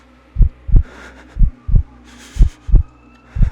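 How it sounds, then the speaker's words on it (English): Heartbeat sound effect: deep, thumping double beats repeating in a steady lub-dub rhythm, loud and close, with a faint airy wash in the background. "my heart pounding violently"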